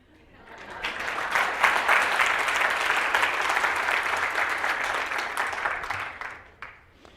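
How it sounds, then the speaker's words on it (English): Audience at a marketing talk applauds, clapping swelling up quickly, holding steady for several seconds, then tapering off into a few last scattered claps. "So the rest of you can applaud the people who got it right."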